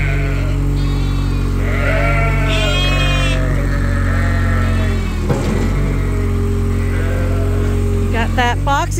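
Sheep and little lambs on a farm bleat repeatedly, several overlapping cries near and far over a loud, constant engine rumble from heavy equipment.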